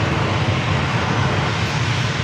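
Airliner engines rumble steadily on a runway at San Diego's Lindbergh Field, a loud, continuous low roar with broadband wash and no pauses or voices.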